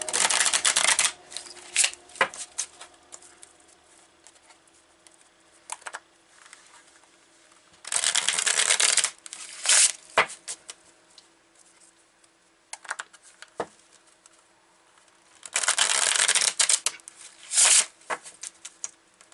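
A deck of Illuminated playing cards is shuffled in three loud riffling bursts, each a couple of seconds long, separated by quiet stretches with soft card taps and handling sounds.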